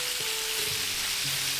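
Chicken pieces fry in hot oil in a pan for a Vietnamese fish-sauce chicken dish. A steady, close sizzle and crackle fills the whole moment, with a few faint low clinks and no talking.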